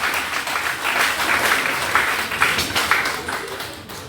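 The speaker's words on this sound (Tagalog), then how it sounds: "Isa pa pong palakpak para doon sa ating bagong buong choir" A church congregation at a Sunday service claps for its newly formed choir, steady applause that swells and then tapers off toward the end.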